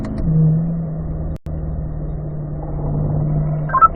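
A race car engine holds a steady drone in fourth gear on a track session, rising slightly in pitch as it pulls, with a brief cut near the middle, heard from inside the car.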